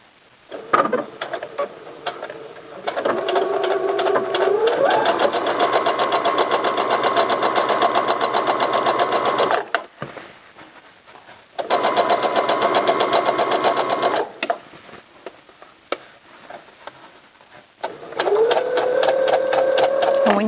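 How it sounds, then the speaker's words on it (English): A sewing machine stitches a pant hem in loud, rapid, steady runs of several seconds each, stopping and restarting with short pauses and a few slower individual stitches, close and with no talking. "So I'm going to sew right along this line."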